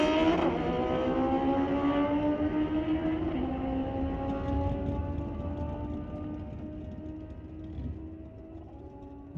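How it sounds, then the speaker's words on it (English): Two well-matched drag racing motorcycles roar down the racetrack at an NHRA meet at Mission Raceway, a loud sustained engine howl with pitch sweeping as they accelerate away and fade slightly into the distance. "two pretty well matched bikes going down the racetrack"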